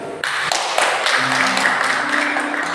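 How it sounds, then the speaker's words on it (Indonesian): Senior members of a GKI church congregation clap together at a Christmas service, a dense, steady wash of many hands close by, with faint voices and a low hum mixed underneath. "senior sendiri tepuk tangan."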